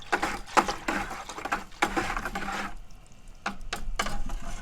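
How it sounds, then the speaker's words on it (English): Shino pottery glaze is stirred in a bucket, producing uneven bursts of sloshing and scraping close by, broken by short pauses and occasional knocks against the container. "The first thing we're going to do is go ahead and stir it"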